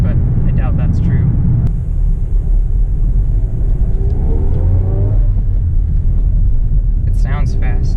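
A 2018 Volkswagen Golf Sportwagen with a manual transmission, its engine droning loud and steady from inside the cabin as it gathers speed, with brief speech near the start and end.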